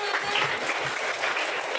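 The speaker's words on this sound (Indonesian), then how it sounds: "tepuk tangan untuk kita semua" Group applause from participants at an academic supervision coaching session, a steady dense clatter of many hands lasting the whole stretch at moderate level, with no voices over it.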